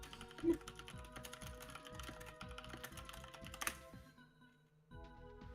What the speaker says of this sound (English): Anne, you're like typing like a mad woman.